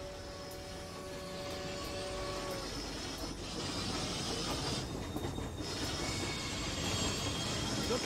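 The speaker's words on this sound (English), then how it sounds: "Train comes. Train arrives on time." A train arrives in the World War II video game RAID, its wheels rumbling and clattering loudly and steadily with metallic squeals and tones over the top.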